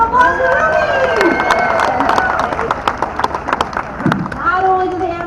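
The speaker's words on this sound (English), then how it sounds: "Let's give a nice round of applause to Ruby." An audience at an animal actors show claps for a young volunteer, with a scattered patter of hands under a loud voice talking and some crowd noise.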